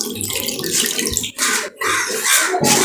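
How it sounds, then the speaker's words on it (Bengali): Water runs from a tap as a bowl is rinsed in a kitchen sink, a close, splashy rush broken by two short pauses and bursts of sloshing as the bowl is moved under the stream. "একটু বাটিটা ধুয়ে নিলাম।"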